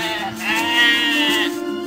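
Goats in a pen bleat in one drawn-out, wavering call, close and fairly loud, with faint rustling beneath.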